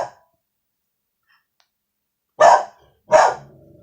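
Ina, a pet dog, gives two sharp, loud barks close by, about a second apart, after a brief earlier yelp and a stretch of silence.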